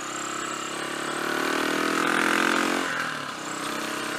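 A motorcycle engine runs steadily while riding over open moorland tops near Stanhope, a continuous close drone that swells in the middle and eases back slightly near the end, with wind rush underneath and no talk.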